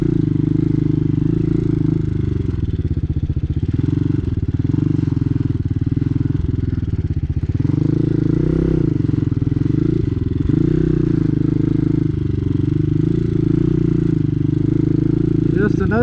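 A Hawk DLX 250 EFI motorcycle rides through desert terrain, its engine a loud, continuous close-up roar that surges and dips as the rear wheel loses traction, with clattering over the rough ground and a rider talking over it.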